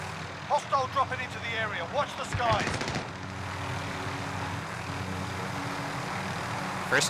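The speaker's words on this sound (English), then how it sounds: "First time flying the heli" A helicopter flies in Call of Duty: Warzone. A person talks briefly at the start, then a steady, even rotor and engine drone carries on alone.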